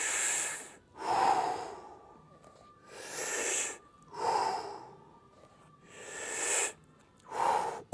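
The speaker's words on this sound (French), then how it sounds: "Grand respire." Deep, slow breaths during a back-strengthening exercise: three full inhale–exhale cycles, each a loud, close, airy rush with slight nasal snorting and short quiet pauses between, no talking.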